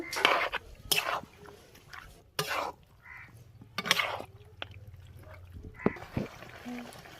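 Meat is stirred in a pan of spices with a metal utensil, giving scattered clinks and scrapes against the pan at moderate volume, with quiet gaps between them.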